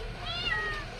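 A cat gives a single short, close meow at an outdoor village kitchen beside a wood-fired stove where country chicken is cooking, over a low background hum.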